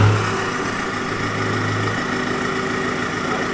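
A straight-piped VW Golf GT TDI diesel rumbles close by with a single short rev that quickly settles back into a steady, loud idle, with no talking.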